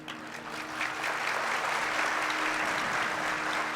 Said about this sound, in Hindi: हाँ, तुम्हारी तालियां बजा रही हैं,